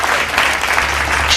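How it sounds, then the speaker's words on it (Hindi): Audience at a Lucknow kavi sammelan poetry gathering claps in a dense, steady burst of applause that holds at full volume for a second or so. "एक बार जोरदार तालियों से आमंत्रित कीजिए"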